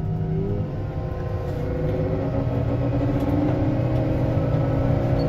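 Engine of a Merlo TurboFarmer telehandler revved on the foot throttle, a loud, steady, close droning rumble that builds slightly and holds.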